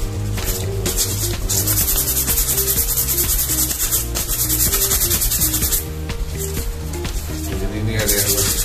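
Sandpaper rubbed by hand across a Yamaha motorcycle helmet shell during a repaint, a close rasping scrub in steady back-and-forth strokes with short pauses between passes.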